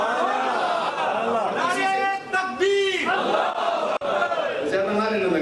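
A crowd at a religious speech loudly chanting slogans in unison, with rising and falling massed voices repeating in waves over several seconds.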